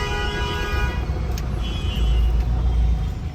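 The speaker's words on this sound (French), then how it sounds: "le klaxon indien" Busy road traffic in India rumbles close by with engines droning and a car horn sounding amid the continuous noisy flow of vehicles.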